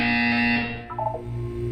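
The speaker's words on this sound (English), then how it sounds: "You will hear a buzzer. When you hear the buzzer," An electronic buzzer from the video game Portal 2 sounds as one loud, steady tone up close, then fades into a quieter hum.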